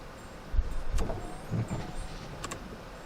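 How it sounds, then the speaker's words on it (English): Several small sharp clicks from the wiper stalk on intermittent setting sound close by inside a Land Rover Discovery 2, irregularly spaced over a low background rumble. "I can hear it clicking."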